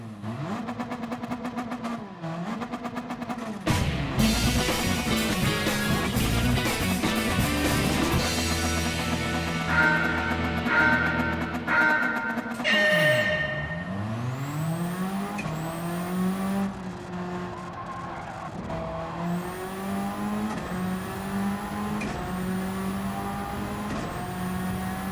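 A 1998 Subaru Impreza rally car in the racing game Gran Turismo, its engine revving hard and climbing through gears with repeated rising pitch sweeps and shift drops, loud, continuous and close.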